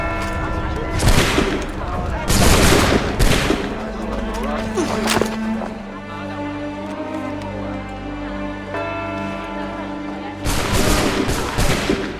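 A volley of musket gunfire erupts on command in Assassin's Creed 3, with several loud bursts of shots spread across the scene, mixed with booming reports and surrounding game sound and voices.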